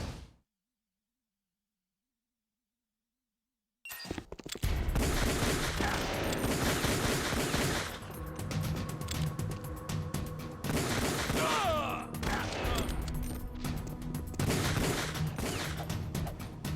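Rapid gunfire erupts after a few seconds of silence, with sustained bursts of shooting continuing loudly in a chaotic action scene, some voices faintly mixed in.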